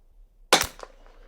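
A single sharp gunshot from a Bergara BMR bolt-action rifle in .22 Long Rifle, close and loud, with a short ringing decay and a faint echo trailing after the crack.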